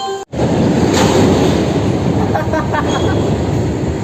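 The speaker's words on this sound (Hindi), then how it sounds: "ये दे ट्रेन चले लगी संगवारी हो।" A green freight train starts to move at Bilaspur Junction railway station, a loud, steady rumble and rattle of wagons close by after a brief dropout, with faint squeals partway through.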